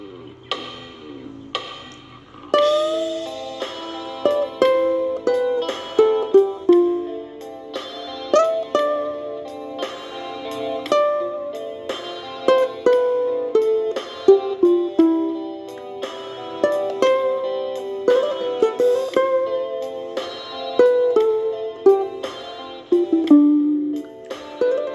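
A ukulele plays a melody with light improvised flourishes, plucked notes and strummed chords in a steady, clear run that lasts throughout.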